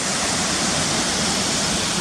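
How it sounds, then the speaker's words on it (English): Water pouring down the cliffs at Cotter Force waterfall, a loud unbroken rushing roar heard close by, without voices. "loads of water running down the side of the cliffs here"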